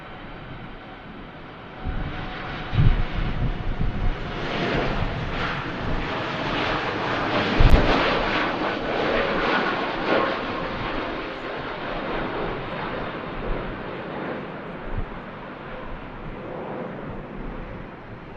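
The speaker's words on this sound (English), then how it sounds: "we do have a TUI Dreamliner on the roll" A TUI Boeing Dreamliner jet takes off at Manchester Airport in strong winds, a broad distant roar swelling and fading under gusty wind noise.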